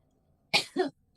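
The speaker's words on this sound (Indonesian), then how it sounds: "Tapi ini batuk nih" A single short two-part cough, close and clear, in an otherwise quiet setting.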